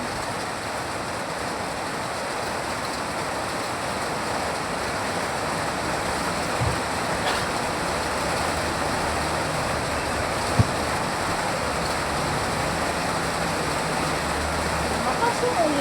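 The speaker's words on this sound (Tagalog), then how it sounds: "Malakas yung ulan." Heavy rain pours down outdoors in a steady, unbroken hiss that stays at an even, loud level throughout, with no break in the downpour.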